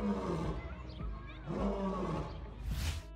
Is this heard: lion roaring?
yes